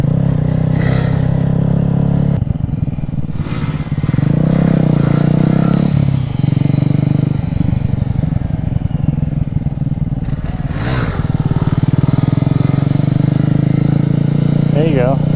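Motorcycle ridden along a road, a loud, close engine droning steadily with rising and falling revs and gear changes, wind and road rumble throughout, and a rider's voice now and then over it.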